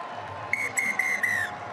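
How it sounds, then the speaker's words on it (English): A rugby referee's whistle at a stadium in Wellington, blown in four sharp, loud blasts in quick succession to end a Wellington v Southland match, over a low, steady crowd murmur. "the referee blows the whistle and it's all over here at the stadium in Wellington"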